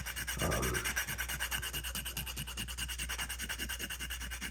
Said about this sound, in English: once you get a little bit closer to the end of what you want, take that sandpaper